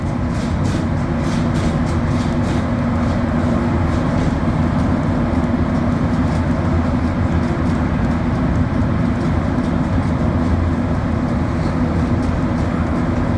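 Montreal Orange Line metro car rolling from Côte-Vertu on the last run of the night: a steady, loud low rumble and rattle of wheels and carriage that holds constant throughout, with no voices.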